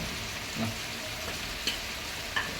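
Tomatoes frying in masala for jackfruit biryani, a constant close sizzle with occasional stirring scrapes and light clicks of a spoon against the pan.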